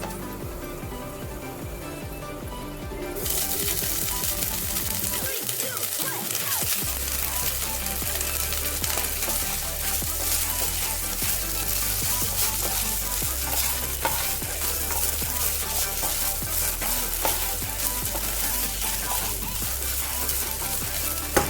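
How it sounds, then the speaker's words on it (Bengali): Cooked basmati rice stirred into cashews and raisins frying in a pan for pulao, with steady close sizzling and scraping of a spoon against the pan running throughout, no voices. "কাজু কিশমিশগুলো আমার ভাজা হয়ে গেছে, এর মধ্যে আমি এবার ভাতটাকে অ্যাড করে দেবো।"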